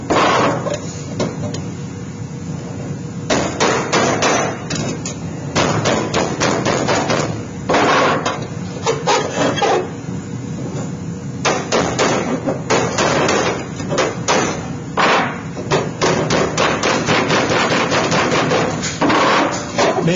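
Hammering a sheet metal duct seam on a square throat ogee offset fitting, with steady bursts of loud ringing metallic taps and blows close by, in rapid irregular runs throughout.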